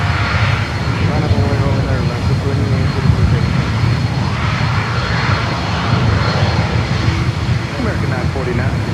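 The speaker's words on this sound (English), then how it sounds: "as soon as we hear these CF6s spooling up" General Electric CF6 jet engines on an airliner at Miami Airport spooling up, a loud, steady, broadband roar that holds throughout at close range, with a voice talking over it.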